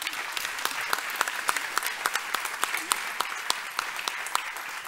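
Audience at a conference panel discussion applauds, a sustained patter of many hands with sharp individual claps standing out, moderately loud in a large room, with some voices underneath.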